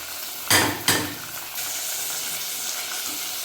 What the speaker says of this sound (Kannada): ನುಗ್ಗೆ ಸೊಪ್ಪಿನ ಕಹಿ ಅಂಶ ಹೋಗೋವರೆಗೂ ಇದನ್ನ ರೋಸ್ಟ್ ಮಾಡೋಣ